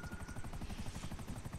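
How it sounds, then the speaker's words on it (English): Helicopter in GTA Online, a fast rhythmic rotor chop throbbing steadily, faint and alone. "That helicopter's ducking us down."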